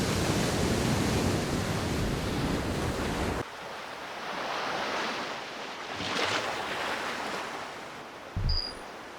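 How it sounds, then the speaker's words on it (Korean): Wind and rough waves on the Jeju sea near Biyangdo, a loud broadband roar of surf and gusting wind buffeting the microphone, cutting to a softer swelling wash partway through. "이곳은 바람 많고 파도 거칠기로 유명한 제주 바다입니다."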